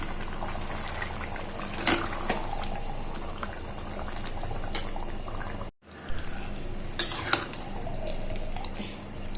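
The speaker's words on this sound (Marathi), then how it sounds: "आता हे मॅरिनेट केलेलं मटण आपल्याला घालायचं आहे त्याच्यामध्ये परतून घ्यायचे" Marinated mutton stir-fried over a high flame in a pot for biryani gives a loud, steady sizzle and bubbling, with occasional clinks of stirring and a brief break partway through.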